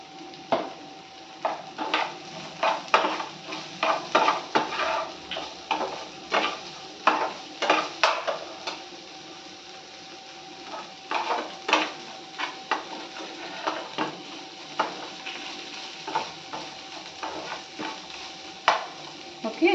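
A spoon stirs colourful khichdi with added salt in a pan, making repeated scraping and clinking strokes in an uneven rhythm over a soft background sizzle, close by.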